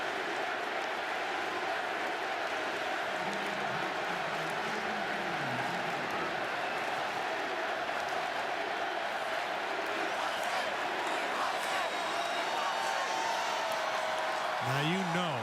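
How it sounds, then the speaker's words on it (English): A college football stadium crowd roars continuously, with chanting voices calling for defense rising and falling under a steady wash of noise, and a voice talking over it. "when you hear the call for defense, that's a well-schooled crowd"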